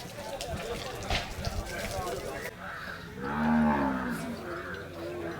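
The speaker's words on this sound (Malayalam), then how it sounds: "ഇതൊക്കെ മൂരിക്കുട്ടികളാണ് ഇവിടെ വന്നിട്ടുള്ളത്" Young bulls and cattle at a wholesale cattle market in Kerala, with a deep, swelling moo rising close by midway through, amid crowd noise, market bustle and people talking.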